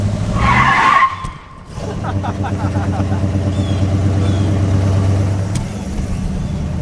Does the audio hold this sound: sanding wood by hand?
no